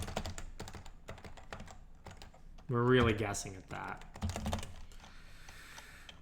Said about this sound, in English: What was I typing?